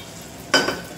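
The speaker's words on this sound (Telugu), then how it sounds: "అల్లం వెల్లుల్లి పేస్ట్ కూడా వేసేసి బాగా మిక్స్ చేసుకున్నానండి" Ginger garlic paste being stirred in a frying pan for tomato rice makes one short scrape with a burst of sizzle, close and alone.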